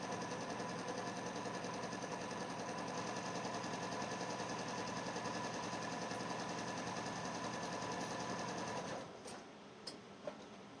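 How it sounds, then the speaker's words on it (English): A Janome sewing machine runs steadily, stitching through half a yard of canvas for a tote, its fast rhythmic needle chatter continuous and close for about nine seconds before stopping, followed by a few faint clicks. "I guess you can't see my sewing machine, but I guess you know what I'm doing."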